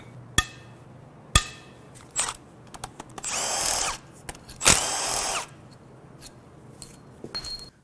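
A breaker bar working on the head bolts of a Toyota 2GR-FE V6 engine: sharp metallic clicks and clanks, then two longer harsh grinding bursts as the bolts give way, close and without speech.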